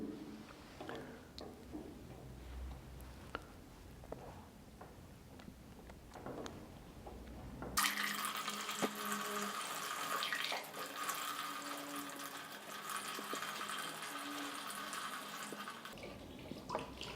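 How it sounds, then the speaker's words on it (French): Water being emptied out, a faint trickling and dripping that swells into a louder, steady rush of pouring water partway through, heard alone without voices. "il est préférable de vider complètement l'eau"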